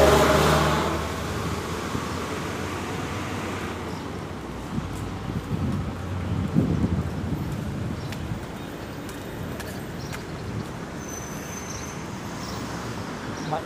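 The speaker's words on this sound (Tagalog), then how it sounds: "Init pero mahangin." Steady outdoor wind in Dubai rushing and buffeting, with low rumbling gusts and faint distant traffic, no voices.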